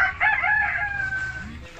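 Gaok rooster, a local Madurese chicken breed from Madura island, crowing once loud and close, a drawn-out call that rises then trails off over under two seconds.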